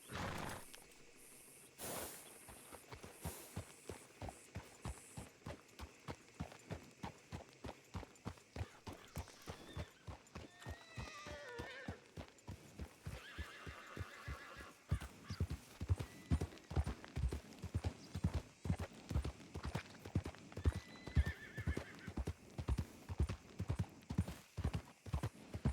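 A horse in a RedM western roleplay game clip-clops along in a steady, rhythmic gait with faint mechanical clicks and rustles, its hoofbeats growing heavier and louder in the second half; no whinny stands out.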